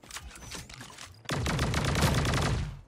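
Rapid gunfire in the shooter game Sausage Man, with scattered shots at first, then a sudden louder burst of sustained automatic fire continuing to the end.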